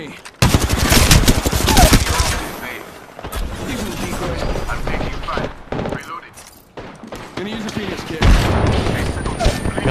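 Heavy gunfire in the video game Apex Legends, with rapid automatic bursts and booming impacts rattling in loud clusters throughout, while players talk excitedly over the shooting.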